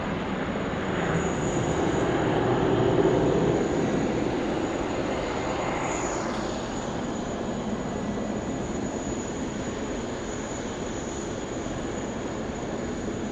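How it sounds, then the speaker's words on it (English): A Philippine Airlines A320neo rolls out on the runway at Sydney Airport, its engines a steady broad roar that slowly eases and holds at a distance, with no talk over it. "We've got the Philippine Airlines A320 Neo now just rolling out on 16 right."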